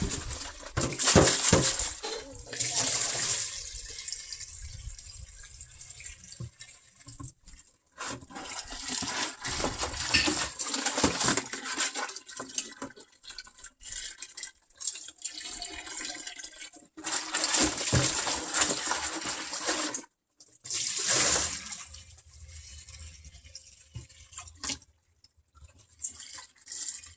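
Water poured or running into a container, with splashing bursts that start and stop several times, moderately close and fairly quiet.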